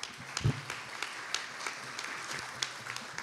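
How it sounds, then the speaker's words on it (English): Light audience applause at an award nomination meeting after Hall of Fame inductees are announced, a thin, faint patter of scattered claps with a few louder individual claps. "A round of applause, please."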